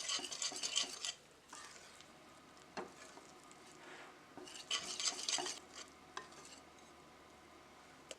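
A whisk beats shrimp batter in a bowl with quick rhythmic scraping bursts, loudest at the start and again midway, separated by quieter pauses and light clinks.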